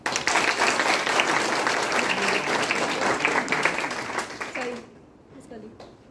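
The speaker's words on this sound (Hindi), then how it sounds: "और एक बार सबके सम्मान में आपसे चाहता हूं कि एक बार आप तालियां बजाएं" Audience applause in a university lecture hall during a Hindi Week language talk, dense and steady for about five seconds before dropping off to a few scattered claps.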